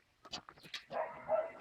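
A dog gives a few quick, close barks and yips in the first second, followed by a rougher stretch of noise that ends in a sharp click.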